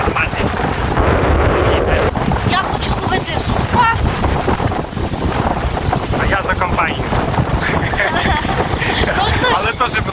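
Strong wind buffets the microphone in heavy, continuous rumbling gusts at a fishing spot, with water sloshing nearby and voices speaking underneath.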